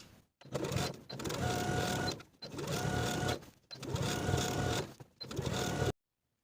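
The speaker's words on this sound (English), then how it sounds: "I'm going to top stitch using a 1/8 inch seam allowance" A sewing machine topstitching a blouse seam runs in four steady whirring bursts of about a second each, separated by short pauses, close and clear before cutting to silence.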